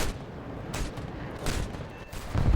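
Aircraft guns firing in a World War II flight combat video game with a Ki-200 rocket plane: a dense, continuous rattling roar of rapid gunfire with louder bursts, loud and steady throughout.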